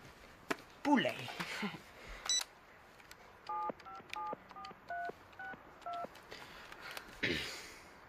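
Touch-tone telephone being dialed for a prank call, a steady run of about ten short keypad beeps in the middle, with voices talking before and after the dialing.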